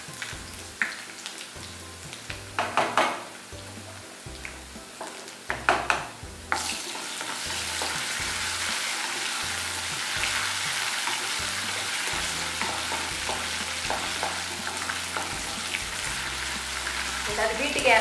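Ginger sizzling in hot oil in a pan while being stirred for broken wheat pongal, with scraping stir strokes early and then a steady, dense frying hiss that carries on to the end.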